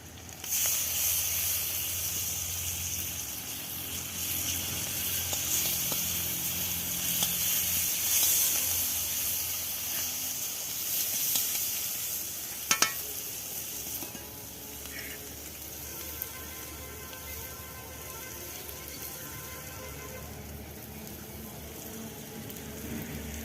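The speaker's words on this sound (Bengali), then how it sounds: "এবার আমি বাটা রসুনটা দিয়ে দিচ্ছি" Ground garlic paste hits hot oil in a pan for a Malabar spinach dish, giving a steady hissing sizzle that fades slightly after a sharp clatter midway and continues more quietly.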